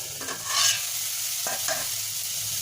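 Fenugreek leaves stir and fry in oil in a pan, giving a soft, steady sizzle with a few scraping strokes of a utensil, close and quiet, with no voices.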